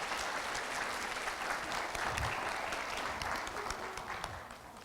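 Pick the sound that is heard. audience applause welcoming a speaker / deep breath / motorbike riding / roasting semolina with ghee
audience applause welcoming a speaker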